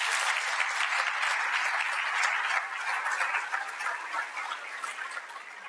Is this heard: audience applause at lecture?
yes